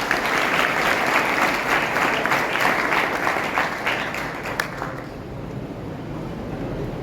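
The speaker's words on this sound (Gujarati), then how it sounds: "આ વિદ્યાર્થીઓને તાળીઓથી વધાવીએ" Applause from the audience at a school award ceremony honouring students, a sustained wash of many hands clapping together that stays loud for several seconds and then thins and fades out.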